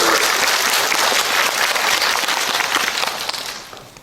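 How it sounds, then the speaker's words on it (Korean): Audience applause at a Busan International Film Festival guest visit screening Q&A, a dense steady burst of clapping from a full house that holds loud for about three seconds, then tapers off. "박수 한번 주십시오."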